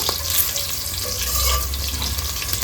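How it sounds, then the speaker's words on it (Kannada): Mustard seeds splutter and crushed, unpeeled garlic fries in hot oil for a raw jackfruit sambar, a steady, loud sizzling hiss with small crackles that runs the whole time. "ಸಾಸಿವೆ ಚಿಟಪಟ ಅನ್ನುವಾಗ ಒಂದು ಗೆಡ್ಡೆಯಷ್ಟು ಬೆಳ್ಳುಳ್ಳಿನ ಸಿಪ್ಪೆ ತೆಗೆಯದೆ ಜಜ್ಜಿ ಇಟ್ಕೊಂಡಿರಬೇಕು ಚಂದ ಫ್ರೈ ಆಗಬೇಕು"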